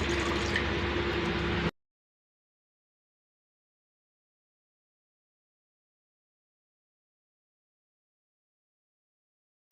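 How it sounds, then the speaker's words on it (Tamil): Water is poured onto mutton in a pressure cooker, a brief close liquid splash lasting under two seconds before silence. "தேவையான அளவு தண்ணி ஊற்றிக்கலாங்க"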